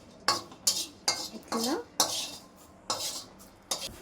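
Ingredients roasting in a pan while being stirred, with a series of sharp metal scrapes and clanks of a spoon against the pan at uneven intervals, close and loud over a faint sizzle, without talk.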